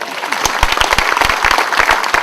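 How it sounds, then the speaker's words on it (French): An audience at a talk on the Eucharist bursts into applause: close, loud, sharp individual claps in a brisk irregular rhythm, forming a short lively round with no speech over it. "On applaudit sa question."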